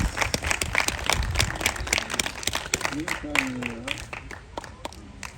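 Scattered audience clapping at a zoo sea lion show continues steadily, with a bright whistle-like tone rising briefly over the applause.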